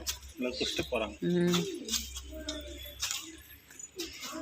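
Soft pigeon cooing and bird calls close by at the Somanatheeswarar temple, under a person speaking, with a brief jangle of keys.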